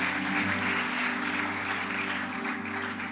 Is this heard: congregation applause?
yes